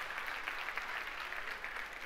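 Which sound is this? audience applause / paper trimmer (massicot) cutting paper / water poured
audience applause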